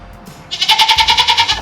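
A goat lets out a loud, close, wavering bleat in rapid pulses after a brief quiet moment.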